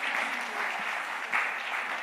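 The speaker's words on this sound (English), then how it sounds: "Big round of applause for our 4 young students." A studio audience applauds four young students, a short, fairly soft burst of steady clapping that stays even throughout with no voices on top.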